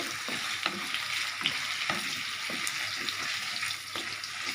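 Steady hiss of potatoes frying in a pan, with occasional soft clicks and scrapes of stirring; close and continuous, no voices.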